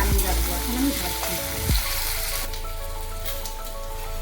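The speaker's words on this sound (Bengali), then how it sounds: "এবার আলুগুলো আমি 4-5 মিনিট লাল করে ভেজে তারপরে নামিয়ে রাখবো। এখন আমি ভাজছি।" Potatoes frying in hot oil in a home kitchen pan, a steady close sizzle with a few stirring clatters, running alone throughout.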